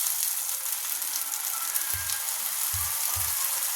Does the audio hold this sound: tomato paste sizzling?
yes